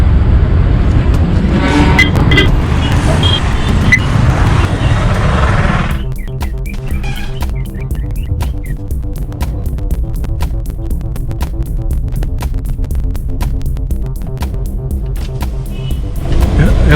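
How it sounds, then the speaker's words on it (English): A car pulls out of a parking spot near a temple, its engine running steadily and close by after a louder burst of street noise, with a brief greeting spoken near the end. "I'm just going to get into my car and move"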